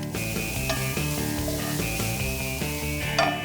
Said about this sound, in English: Mince 1 shallot, 1 portobello mushroom, and saute this with some salt and pepper for about 8 minutes.